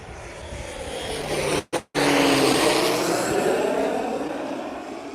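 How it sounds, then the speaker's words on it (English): A fast private jet passes overhead on an outdoor trail, a loud, broad engine roar that holds steady with a brief dropout and then slowly fades. "That plane was coming fast. That's a really nice, fast private jet."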